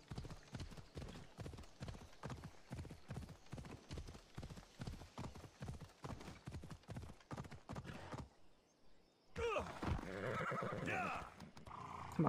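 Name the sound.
horse galloping and neighing in video game Assassin's Creed Odyssey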